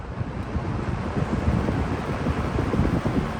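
An old Edison electric fan runs close by with a steady, broad whooshing hum of airflow and a rumbling motor, continuous and even throughout with no talk.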